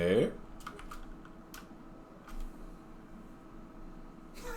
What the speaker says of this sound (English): I saw Nate typing something